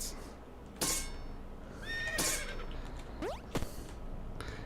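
A horse in the video game Potato Dungeon neighs in short whinnying calls amid game sound effects, including quick sweeping tones, at a fairly low level against a steady background hum.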